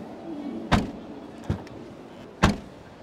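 The tailgate of an Indonesian-spec Daihatsu Rocky shuts with three short, solid bangs spaced under a second apart, heard close over a low outdoor background.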